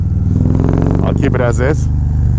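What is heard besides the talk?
Harley Road Glide motorcycle with Feuling 465 cam riding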